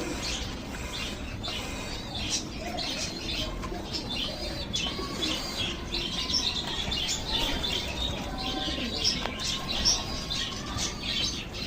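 Pet pigeons feed in a loft, making steady soft cooing, scattered squawks and chirps, and wings flapping now and then, all close and continuous with no talking.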